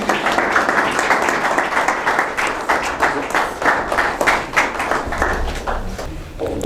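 An audience claps steadily to welcome a guest at a celebration of a TV program's 100th episode, a dense, sustained wash of many hands that holds at even loudness throughout, with no voices on top.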